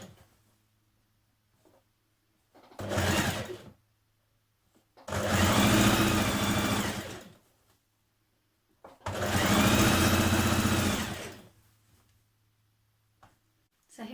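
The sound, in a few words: sewing machine hemming a skirt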